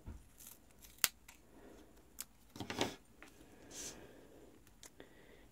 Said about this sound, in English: we're going to cut this tape in half